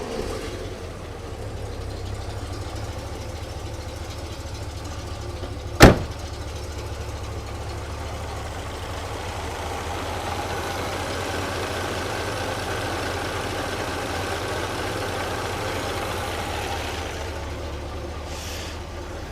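A 1969 Cadillac Eldorado engine idles steadily at low rumble, with a single sharp click partway through and no voices.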